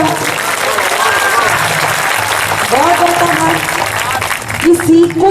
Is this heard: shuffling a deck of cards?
no